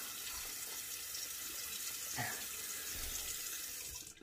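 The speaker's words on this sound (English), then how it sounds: "Let's rinse our face." Water runs steadily from a tap into a sink for rinsing a face, a continuous close hiss and splash with a few brief louder spatters and no talking.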